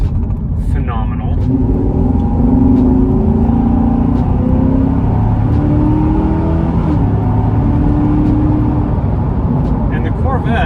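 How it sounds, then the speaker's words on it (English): A Chevrolet C7 Corvette's engine and exhaust rumble and rev loudly and steadily throughout, with faint talking underneath. "the Corvettes in particular actually sound really nice too. Like, they got a great exhaust"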